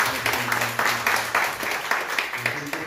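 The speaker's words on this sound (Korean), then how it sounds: "한번 일어나시고 박수 한번 합시다" Church congregation standing to clap during Sunday worship service, a steady mix of hand claps with a low sustained tone running underneath, moderately loud throughout.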